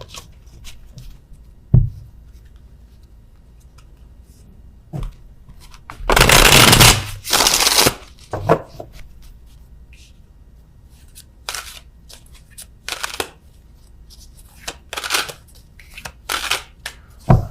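Tarot cards being handled and shuffled, a loud riffling burst near the middle among scattered soft taps, slides and clicks of cards laid down close by, with quiet gaps between.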